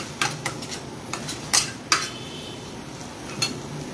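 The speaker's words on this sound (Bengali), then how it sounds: "ভালো করে নাড়তে থাকবো নিচে না লেগে যায়।" Masala and chana dal stirred in a cooking pot, with a spoon scraping and clinking against the metal in irregular bursts and one sharper knock near the middle, close by and without talk.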